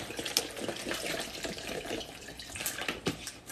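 Water is poured from a litre measure into a container, a close, splashy and gurgling trickle that runs unevenly for a few seconds with no talking.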